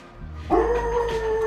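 A puppy dog at home starts up after someone comes to the door: a loud yelping, howl-like cry begins about halfway through and holds steady, close to the listener, with no talk over it.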